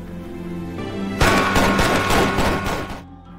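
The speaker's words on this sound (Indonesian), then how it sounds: "mereka pun menaburkan uang sembari menembakkan senjata ke langit" A burst of rapid gunfire shot into the sky at a gang boss's funeral, loud dense volleys crashing in after a quieter lead-in and running for about two seconds before cutting off.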